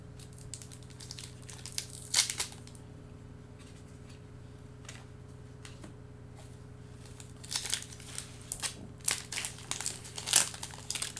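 Crinkly tearing and rustling of a foil 2019 Bowman baseball card pack wrapper, close and quiet, in scattered bursts with pauses between them.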